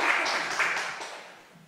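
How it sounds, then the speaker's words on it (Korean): Audience applause at a Won Buddhist religious forum on life and anti-nuclear causes, a steady broadband wash of clapping from a crowd that holds level and then slowly fades out. "감사의 말씀, 박수를 다시 한번 드리겠습니다"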